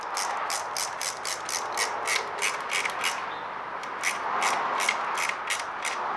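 A 7mm tool tightens a hose clamp on a Samco silicone coolant hose on an Aprilia RS660, giving a quick run of sharp, evenly spaced ratcheting clicks close by, with a short pause partway through and no talking.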